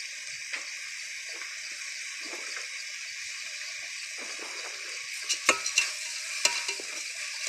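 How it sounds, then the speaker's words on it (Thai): Mama instant noodles stir-fried with cabbage hiss in a steady broad sizzle, close and fairly loud, with a few scraping spatula strokes near the end and no talking. "อันนี้คือ ผัดมาม่านะครับ ใส่ กระหล่ำนะครับ ใส่มาม่านะครับ"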